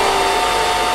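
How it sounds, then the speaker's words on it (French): A fan blows hard with a loud, steady, even rush of air that never lets up, heard up close. "allez-y mollo quand même sur le ventilateur"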